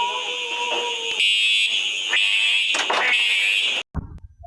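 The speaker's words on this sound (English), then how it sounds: "The survivors experience another fire alarm." A fire alarm blares continuously at high pitch, loud and close, for several seconds before cutting off abruptly near the end.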